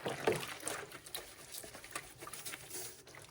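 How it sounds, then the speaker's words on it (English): A compost bin lid being washed, heard as close, irregular splashing and water patter with small knocks of plastic, moderately quiet and with no voices. "I do need to give the lid a quick wash."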